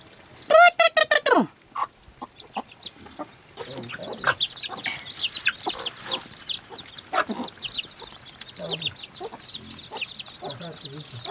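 A white rooster gives a burst of loud clucks up close, followed by softer scattered clucking and chatter from birds nearby.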